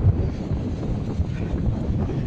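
Steady, blustery wind at the sea roars across the microphone, a low rumbling buffeting with faint splashing beneath, continuous and loud throughout.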